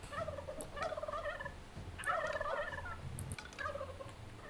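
Turkey-like gobbling calls from fowl in a Dungeons 3 game hatchery, coming in several short repeated bursts over a low background hum, moderately loud and with no speech.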